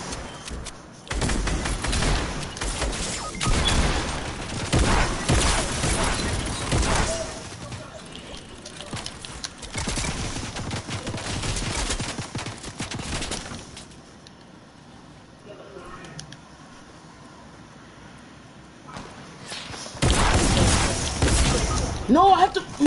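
Gunfire in an online shooter video game, dense bursts of shots and impacts crowding most of the stretch, dropping to a quieter lull before another loud burst at the end, with a voice talking over parts of it.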